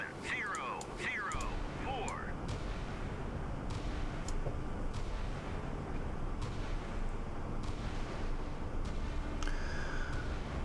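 Naval guns on warships in Sea Power boom in scattered, muffled shots over a steady roar of sea and machinery, with a few brief higher tones and someone speaking quietly over the action.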